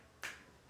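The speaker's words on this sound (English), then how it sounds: "I decide to snap fingers" A single crisp finger snap, close and clear, rising out of a quiet room and decaying quickly.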